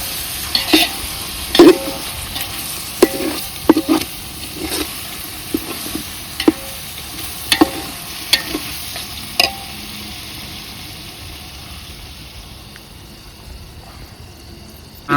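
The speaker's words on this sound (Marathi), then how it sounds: "वा कसं टाकलंय दही. असं मस्त परतायचं." Yogurt being stir-fried for dum biryani over a wood-fired stove, soft sizzling under sharp intermittent spoon scrapes and clanks against the pot, busier at first and tapering to a quiet hiss near the end.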